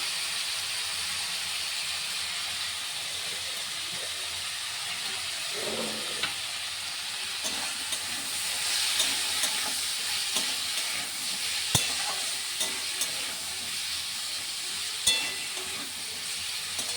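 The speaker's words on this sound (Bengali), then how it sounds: "গ্যাস কমিয়ে ঢাকা দিয়ে একটু ভাজা ভাজা করে দেবো" Steady sizzling and frying in a pan with turmeric added, occasional stirring scrapes and clinks, continuous and fairly close, no talking.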